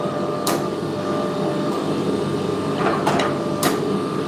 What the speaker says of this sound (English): 20 tons behind a half-inch fuller does a lot of moving for you